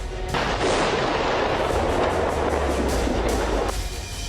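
Wartime bombing in Lebanon produces a sustained, heavy rumbling blast with dense crackling debris, loud and continuous for several seconds before cutting off abruptly, with no voices.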